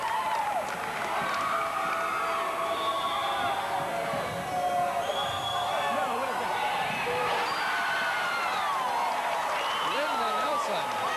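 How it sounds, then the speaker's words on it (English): Crowd at a 1982 women's Division II volleyball championship between UC Riverside and CSU Northridge cheers and applauds in a steady, loud roar that fills the whole stretch, with voices rising and falling through it. "Listen to the crowd."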